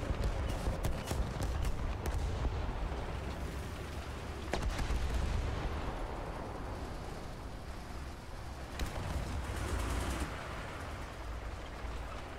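Heavy artillery and gunfire in the War Thunder game rumble continuously with booming blasts and sharp cracks scattered throughout, a dense, rain-like battle din heard without any talking.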